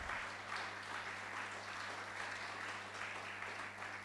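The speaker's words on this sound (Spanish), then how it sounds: "Denle un aplauso." A church congregation applauds during a Sunday Resurrection service, a soft, continuous patter of many hands heard at a distance over a steady low electrical hum.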